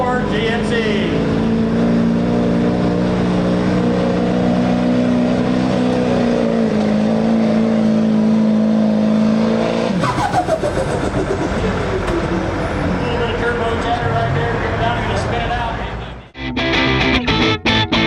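A 2004 GMC pickup roars at a truck pull event, its engine revving loud and sustained with pitch climbing under load, then dropping and rising again near the end amid crowd and announcer noise.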